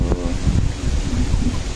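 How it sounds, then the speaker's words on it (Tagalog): Strong typhoon wind blasts outdoors, a loud, continuous roar buffeting the microphone with rumbling low gusts throughout, without any voices. "at ang hangin, ang lakas oh"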